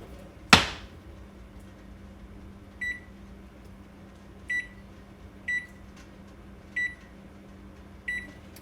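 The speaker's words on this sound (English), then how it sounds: "You're gonna preheat your oven at 350." An oven being set to preheat at 350: one sharp knock or press at the start, then five evenly spaced electronic beeps from the control panel over a quiet background.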